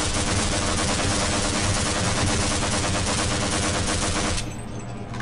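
Gunfire in the video game Half-Life, a dense, loud, continuous burst of rapid shots lasting several seconds before cutting off abruptly near the end, with no talk over it.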